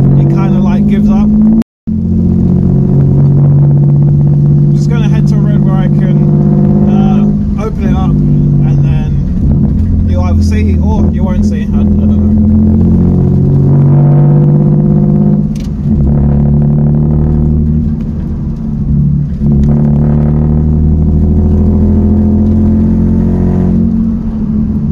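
Toyota Aygo small city car engine revving toward high RPM, a loud steady harmonic drone that rises and falls with throttle, with a brief dropout near the start and an engine that seems to falter at the top.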